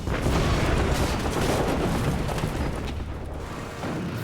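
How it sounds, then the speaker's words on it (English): A torpedo's explosion against the hull of the battleship Bismarck makes a dense, sustained roaring rumble that stays loud across the whole stretch and fades only slightly at the end. "The violent explosion tears a huge hole in the hull."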